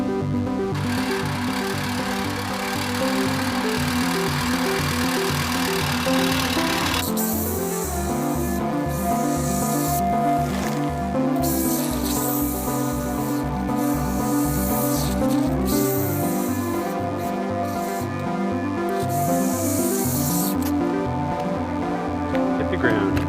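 A lawn trimmer cuts the front lawn during a Kentucky bluegrass renovation, its motor droning steadily and loudly with shifts in pitch as it works through the grass.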